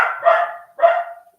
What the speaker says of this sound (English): stop barking at the other dog